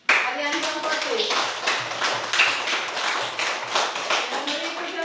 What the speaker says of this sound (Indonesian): Tepuk tangan untuk Arianto Amfotis.